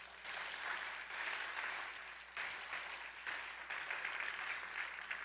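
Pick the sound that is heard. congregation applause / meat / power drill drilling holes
congregation applause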